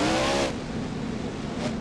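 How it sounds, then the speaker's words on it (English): A monster truck's engine roars and revs loudly in BeamNG Drive at a Monster Jam-style finals event, a brief burst of harsh motor noise with a falling pitch, no voices. "It's the BeamNG Drive monster truck here"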